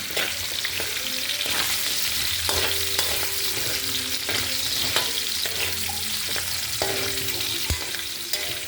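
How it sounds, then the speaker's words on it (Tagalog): Carrots frying in a pan for a Filipino-style chicken curry, a loud, steady sizzle close up, with rhythmic scraping and clinks as they are stirred. "Prituin lang natin yan guys ng mga ilang minuto lang."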